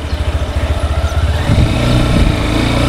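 A Honda Hornet 2.0 motorcycle pulls away with a pulsing, close engine beat that rises as it accelerates, then settles into a steady, strong drone.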